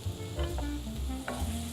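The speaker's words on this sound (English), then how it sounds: "We just want to sweat them a little bit." Shallots sweating in olive oil in a pan, a close, steady sizzle with light stirring clicks and scrapes over it, no talking.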